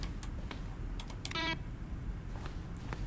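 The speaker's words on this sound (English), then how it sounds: "Each sound is a mix of a keyboard stroke and a synthesized tone." A button press in the video game The Stanley Parable combines a keyboard keystroke with a brief synthesized tone, heard as a few scattered key taps and one ringing electronic blip near the middle, with no speech.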